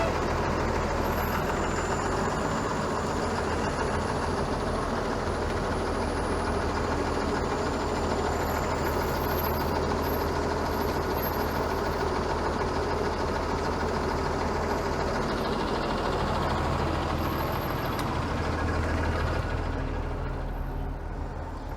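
A city bus idles in weekday traffic on a Toronto road under LRT construction, its engine giving a low, steady drone up close. A faint hiss and high tones sit over a continuous traffic rumble.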